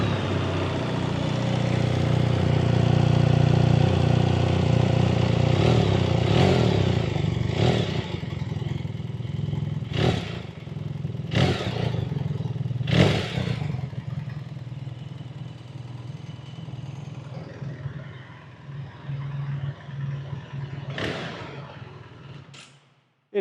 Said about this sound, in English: Let's check the engine noise.